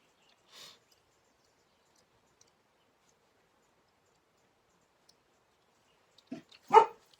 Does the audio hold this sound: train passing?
no